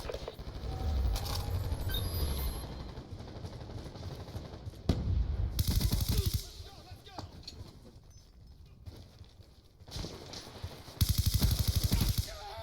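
PDW submachine gun firing in Call of Duty Black Ops 2, several loud rapid bursts separated by pauses, mixed with game effects and voices.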